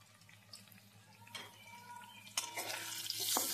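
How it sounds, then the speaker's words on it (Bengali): Potatoes seasoned with salt and turmeric fry in oil in a home kitchen. The faint hiss grows louder, with scraping stirs at intervals and a stronger crackle toward the end. "নুন হলুদ দিয়ে আলুটাকে ভালো করে ফ্রাই করে নিই।"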